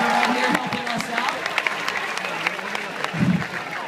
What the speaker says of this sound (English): Now let's give him a big round of applause.